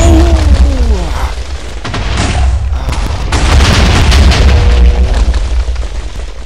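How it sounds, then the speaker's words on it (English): A big explosion in the Minecraft video game, a loud sustained low rumble with crackling bursts lasting several seconds, with no talk over it. "that caused a lot bigger explosion than I expected"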